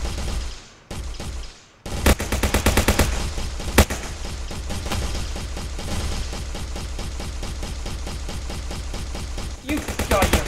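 Rapid automatic gunfire in the Howler Hunt werewolf video game, loud and nearly continuous with dense bursts and sharp single shots over about ten seconds, briefly dropping out near the start.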